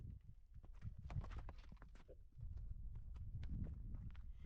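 Wild horses walking on abrasive desert soil in a remote spot, with steady soft hoof clops and crunchy scuffs under a low breezy rumble, fairly close and continuous.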